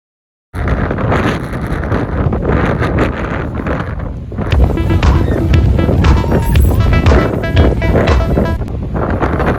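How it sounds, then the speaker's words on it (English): Strong wind on a shore at high tide buffets the microphone with a steady, loud roar that swells into heavier gusts partway through, with no voices. "It's really windy, but it's not as windy down here."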